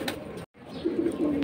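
A domestic pigeon gives soft, low cooing close by, a steady throaty murmur with a brief silent break partway through.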